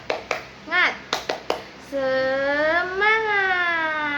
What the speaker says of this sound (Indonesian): Sekarang kita tepuk semangat bersama-sama ya